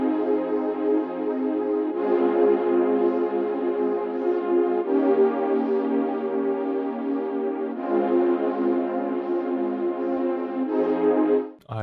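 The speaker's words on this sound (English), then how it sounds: "created a pad in Vital that follows a 1-6-7-6 chord progression, and it sounds like this on its own." Synth pad made in Vital playing a slow 1-6-7-6 chord progression for liquid drum and bass, sustained warm chords changing every two to three seconds, heard alone and fairly loud.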